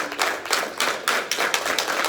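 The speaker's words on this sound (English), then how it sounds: "so let's start clapping. Keep going, get the energy up." People in a leadership meeting room clap in a loose, rhythmic beat, a steady run of moderately quiet claps that comes in roughly even pulses and keeps going throughout.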